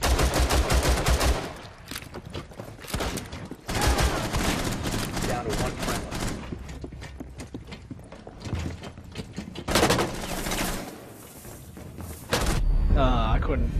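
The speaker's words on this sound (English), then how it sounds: "his gun sounds scary" Enemy gunfire in Rainbow Six Siege, loud bursts of rapid shots in clustered volleys with gaps between, mixed with game mechanical noise and a player talking over it.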